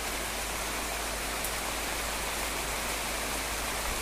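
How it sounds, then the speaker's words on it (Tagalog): Heavy rain pours down on a flooding vegetable garden, a dense, even hiss of water that stays loud and unbroken throughout, with no voices. "Tapos lakas ng ulan."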